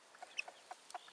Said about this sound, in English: he's a lovely rooster, old Friar.